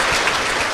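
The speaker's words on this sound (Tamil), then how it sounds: "என்ன, எத்தனை கைத்தட்டல் பாருங்க." A Tamil stage-debate audience claps in a dense, loud burst that carries evenly through the brief moment and has no voices over it.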